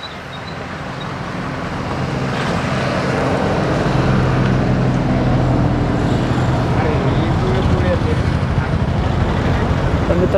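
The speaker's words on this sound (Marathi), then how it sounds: "तिकडनं गाड्या येत आहेत।" Cars come along a road at a scenic spot near Pune, a broad traffic rumble that swells over the first seconds and then holds steady and loud, with wind noise over it.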